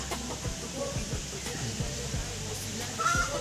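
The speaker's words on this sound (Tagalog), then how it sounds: "may alaga silang manok" Chickens cluck softly in the background of an outdoor scene, with scattered low clucks and faint bird calls.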